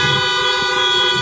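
Car horns honking together at a drive-in church service, a loud, sustained blare of overlapping horn tones from several vehicles held steadily, close and with no talking.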